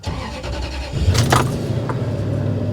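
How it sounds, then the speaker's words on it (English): A Toyota truck engine cranks and fires up about a second in, then settles into a steady idle at close range, with no talking. "Let's go ahead and start the truck"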